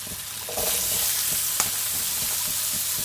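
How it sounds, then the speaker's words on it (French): Garlic and peppers fry in oil in a pan, and a loud, dense sizzle jumps up as they hit the hot fat, then holds as a steady close hiss with small crackles. "On va remettre de l'huile et on va faire revenir tout ça."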